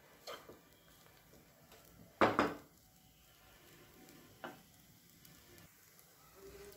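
Veg fried rice sizzling faintly in a pan while being stirred, with a couple of sharp spatula scrapes and taps against the metal over a quiet frying hiss.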